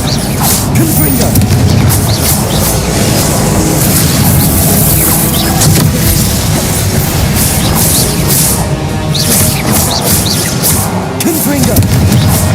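Confringo blasting spells exploding in Hogwarts Legacy, repeated loud booms and crashes amid dense game effects and combat noise, with a voice talking through the chaos.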